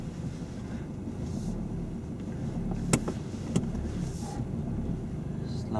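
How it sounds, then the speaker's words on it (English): A car moves off slowly during a driving lesson, a steady low engine and road rumble heard from inside the cabin, with a couple of brief sharp clicks partway through. "show me how slow you're going to control the car as we're moving off out of here"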